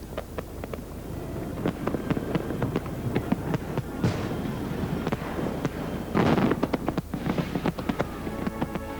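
Fireworks burst in the sky in a rapid, irregular barrage of loud cracks and booms, with denser clusters of crackling explosions toward the end.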